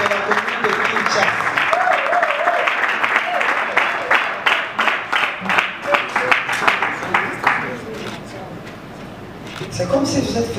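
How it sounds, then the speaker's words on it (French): Sustained audience applause fills an award ceremony in Kinshasa, dense steady clapping from a crowd for about eight seconds before thinning out, with a voice briefly heard near the end. "Il faut applaudir."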